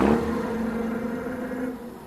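A child imitates a car engine with a low, buzzing rolled-lip drone, starting loud and holding steady for about two seconds before fading.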